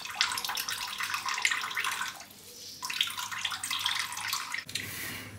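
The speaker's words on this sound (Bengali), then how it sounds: "জলটা একবারে কাপড়ে নিয়ে নিংড়ে নিচ্ছি।" Water strained from fresh chhana (Indian cottage cheese) as it is squeezed through thin cloth while making rasgulla, a steady splashing, trickling stream that pauses briefly and then resumes, close and alone.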